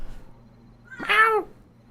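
A single cat meows once, a clear, fairly loud drawn-out cry rising and falling in pitch, after a quiet stretch with faint background noise.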